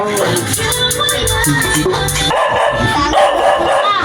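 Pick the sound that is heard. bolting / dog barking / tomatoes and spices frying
dog barking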